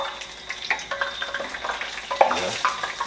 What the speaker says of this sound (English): So we're frying these sweet potatoes.